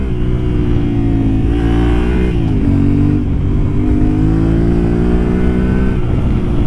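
A 2024 Yamaha Ténéré 700 A2 motorcycle engine drones loud and close through a road test, its steady mid-range growl rising and falling slightly with throttle changes, with no voices.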